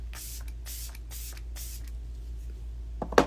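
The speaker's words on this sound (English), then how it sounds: "I'm just spraying a little bit of this" Wet n Wild Fight Dirty setting spray misted onto a makeup sponge: four quick hissing spritzes in a row, close and crisp, followed by a brief soft rustle near the end.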